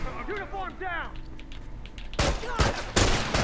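Gunfire from The Last of Us in a coal mine match, a quick burst of sharp shots close together near the end after a voice talks over game sounds.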